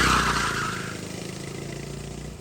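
Go-kart engines on a karting circuit drone and buzz, loud and close at first, then steadily fading as the karts move away.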